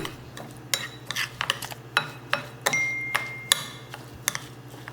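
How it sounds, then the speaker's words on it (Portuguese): Couscous flour being stirred in a bowl while water is added a little at a time: irregular scraping and clinking strokes of a utensil, close and clear, with a faint steady hum underneath. "Vai colocando aos poucos e mexendo pra hidratar a massa desse cuscuz."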